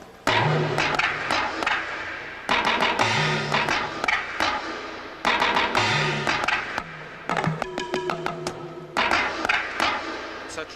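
Electronic drum kit voiced with bamboo hat, talking drum and timbale sounds played together in busy percussive patterns, sharp woody clicks over pitched, bending drum tones, close and loud with no talking.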